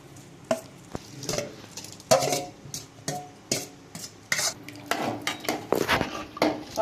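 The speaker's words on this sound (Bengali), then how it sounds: "এখানে সব কিছুকে আমি হাঁড়ির মধ্যে দিয়ে দিলাম" Half-boiled vegetables and rice go into a cooking pot: a close series of irregular metallic clanks and scrapes from a ladle against the pot, with a soft rustle of food between the knocks.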